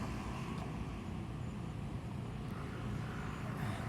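Steady roadside traffic rumble with cars and trucks passing continuously at moderate distance, a broad low drone with no talk over it.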